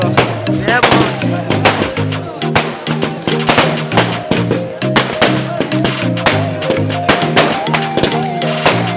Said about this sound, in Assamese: ভাই বোমা মারছি যে বোমা মারছি দেওয়ালি নে কি রে পুরো বোমা মারছি।